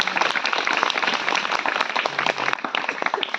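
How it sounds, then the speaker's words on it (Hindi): A church congregation applauding, dense overlapping hand claps from many people filling the room at a steady level for several seconds. "इन सबके लिए ताली बजाएं"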